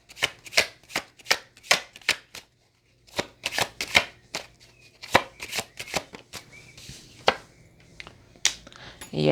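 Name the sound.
shuffling tarot cards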